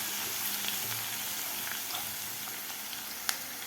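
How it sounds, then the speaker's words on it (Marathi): Garlic fries gently in a pan, a soft, steady sizzle and crackle held at low volume, with a faint clink near the end. "लसूण सुद्धा आपल्याला थोडासा गोल्डन कलर होईपर्यंत आपल्याला परतून घ्यायचा आहे"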